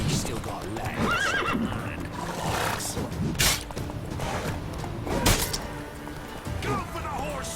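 Horses whinny and hooves clatter in a medieval-style video game battle, with a couple of sharp neighs standing out over galloping clip-clop, swooshing strikes and thuds, while gruff voices shout.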